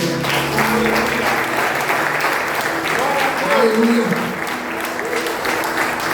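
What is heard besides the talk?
congregation applauding in church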